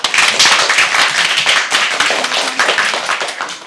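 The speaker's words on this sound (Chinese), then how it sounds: "现在让我们用最热烈的掌声来欢迎他自我介绍" A classroom of young children claps loudly and continuously to welcome a new classmate, a dense, enthusiastic patter of many small hands.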